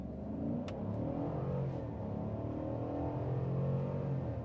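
A 2023 GMC Sierra Denali pickup truck in 4 high launches from a standstill, its engine note rising in a steady, loud, rumbling acceleration heard from inside the cab, no talk over it.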